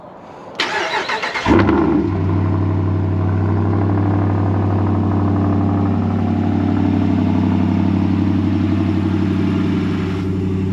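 A truck engine cranks briefly, catches and settles into a loud, steady idle as it warms up, close and uninterrupted with no talk.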